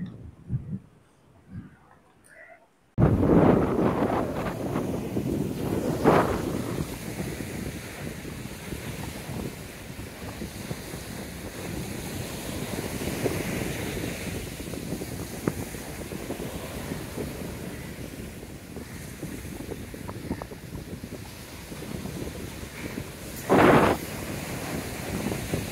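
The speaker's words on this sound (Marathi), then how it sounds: "कोरलाईचा समुद्र किनारा" At Korlai beach near Alibaug, the sea surf and strong wind roar in a steady stream with heavy gusts buffeting the microphone, after a brief quieter start, with swells rising and falling and no talk.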